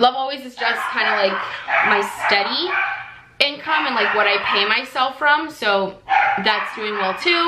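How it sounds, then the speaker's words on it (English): Dogs barking and yipping indoors in repeated bursts, loud and close, mixed with someone talking over them. "Sorry for the dogs."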